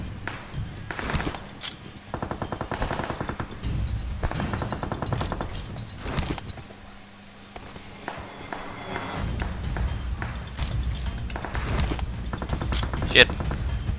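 Rapid bursts of gunfire from the PUBG Mobile battle game, repeated shot volleys and footsteps mixed over near-constant talk, with a brief quieter gap midway before firing resumes.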